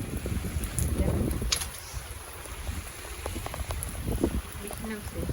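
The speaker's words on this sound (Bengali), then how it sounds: "দেখো বৃষ্টি হইতেছে আজকে সৌদি আরবে" Rain falls outdoors in Saudi Arabia, a steady broadband patter mixed with gusts of wind noise against the microphone.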